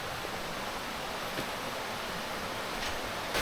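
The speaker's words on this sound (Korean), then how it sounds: "바람 많이 부는데, 여기?" Wind blows steadily across an open spot on a summer mountain trail near a waterfall in Seoul's Seorak area, a broad, even rushing hiss that fills the moment without talk.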